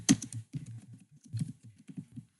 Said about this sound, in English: Now you type in the alert you want.